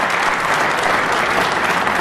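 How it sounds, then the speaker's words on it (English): Dense, steady audience applause fills the hall after Tony Drago's pool shot in the 2009 World Pool Masters quarter-final, a continuous even wash of clapping with no break. "And duly applauded"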